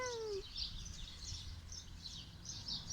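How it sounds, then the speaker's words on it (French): Faint, high bird chirps repeat in short bursts from a distance over a low steady outdoor hum. "Vous entendez les oiseaux?"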